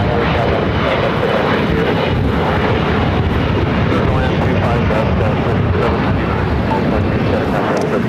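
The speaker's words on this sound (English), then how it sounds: "That flight taking off Alaska Horizon" An Alaska Horizon Embraer E175 jet takes off at LAX, a loud, steady broadband engine roar that holds for the whole stretch with no break or fade.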